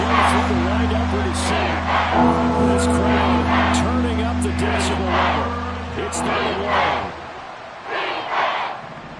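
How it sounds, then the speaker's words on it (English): Stadium crowd at an American football game keeps up a loud, steady roar with swelling cheers, continuous throughout and dropping off near the end, with a voice talking over it. "This crowd turning up the decibel level"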